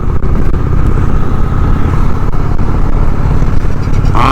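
Honda Shadow 750 ACE motorcycle rides through busy traffic at higher speeds, its engine a loud, constant low rumble blended with road and wind roar throughout.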